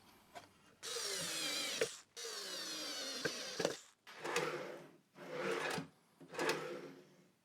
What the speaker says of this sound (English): I will install the drawer itself in the runners